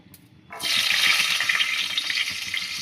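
Garlic cloves hit hot mustard oil in a wok, bursting into a loud, sudden sizzle after a brief quiet moment, then hissing steadily up close.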